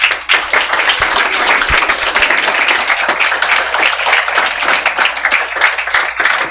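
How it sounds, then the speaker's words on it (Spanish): A church congregation claps loudly for the Lord, with thick, sustained applause filling the room evenly from start to finish and no talk over it. "Dale un fuerte aplauso al Señor."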